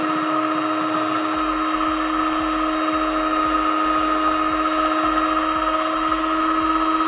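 A mixer whirs steadily, stirring herbal antiseptic soap mixture with turmeric extract; the tone is a constant close motor drone with a faint rhythmic scraping underneath.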